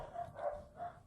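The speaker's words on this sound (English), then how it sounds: "if you can hear the dogs barking, I apologize." Distant dog barks, muffled and fairly faint, sounding in a few short bursts from another room.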